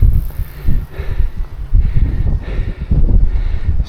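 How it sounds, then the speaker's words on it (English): Wind blows across the microphone on a mountain road in Sicily during a mountain bike ride, a loud low rumbling buffet that surges and eases in uneven gusts throughout. "it's a little bit windy"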